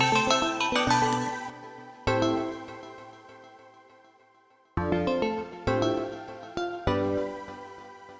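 A Nexus synth melody plays in struck chords that decay, with a soft sustained pad beneath, the notes entering in uneven bursts with gaps.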